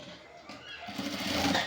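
Sewing machine stitching the side pocket of a pant, a steady mechanical whirr that starts softly and builds in loudness and density toward the end of the short burst.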